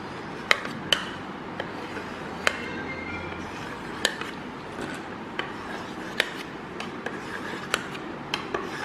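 Knife slicing a set rose-flavoured agar agar pudding, making sparse sharp taps and clicks against a plate or board at irregular intervals over a quiet background.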